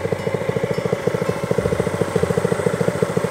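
A walk-behind tiller engine runs in a home vegetable garden, chugging close up in a steady fast rhythmic putter with constant mechanical drone throughout.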